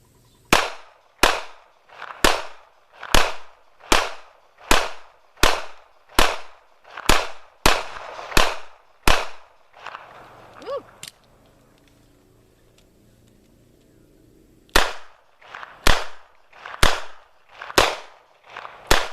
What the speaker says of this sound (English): we're going to try this again now with a 9mm semi-auto